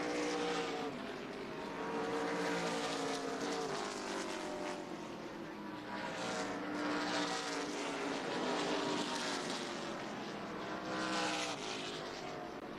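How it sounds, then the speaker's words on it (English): ARCA Menards Series West stock race cars roar down the backstretch past turn 2, a loud, continuous engine drone with rising and falling pitch sweeps as cars pass one after another, crowd-level noise beneath. "Good look from outside of turn 2 as the cars zip down the backstretch."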